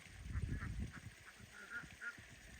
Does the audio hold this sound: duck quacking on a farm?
yes